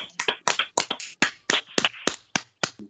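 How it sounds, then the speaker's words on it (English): Hands clap in a sparse, uneven run of about a dozen sharp claps after a lecture on Hamilton-Jacobi equations, fairly close and moderately quiet. "And clap for everybody."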